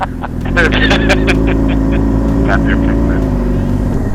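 A Yamaha R6 sport bike ridden at night through a well-lit city, its engine droning steadily and close after a quick rise in revs near the start, with brief voice sounds over it.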